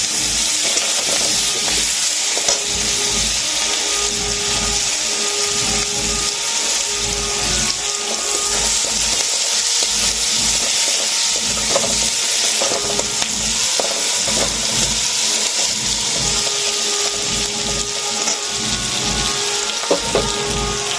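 Chopped onion sizzles in hot oil with dried chilli, bay leaf and cumin while a shrimp curry is being cooked, a loud, continuous frying hiss with occasional stirring clinks and no talking.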